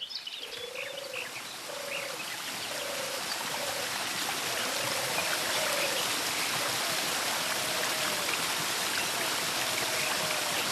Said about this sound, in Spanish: El agua se recogía aquí, en el manantial